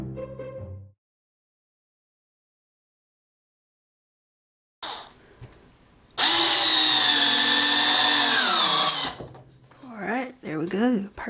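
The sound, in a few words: power drill driving screws into a soap slab mold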